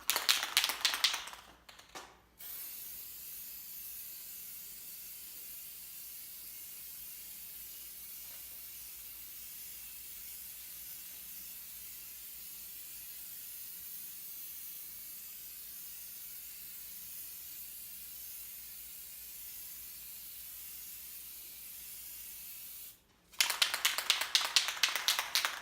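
A spray paint can hisses onto sheets of paper in one long, steady spray lasting about twenty seconds. Short bursts of rattling and tapping come just before the spray starts and again right after it stops.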